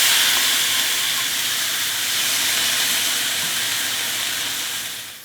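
Beef stir-frying in a hot pan for a Korean gujeolpan platter, a steady close sizzle and hiss of cooking liquid running unbroken throughout and easing slightly at the end, with no talking.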